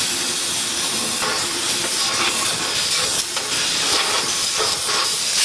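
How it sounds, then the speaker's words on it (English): An air compressor blows compressed air into a rusty motorcycle fuel tank, a loud, continuous broadband hiss that holds steady throughout with slight surges. "Let me turn this compressor on real quick."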